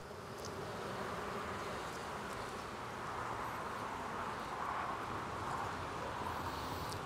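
Honeybees swarm and hum as frames are lifted from a Langstroth hive during an inspection, with puffs of smoke driving them down; a dense, continuous buzzing fills the air, fairly close and unbroken.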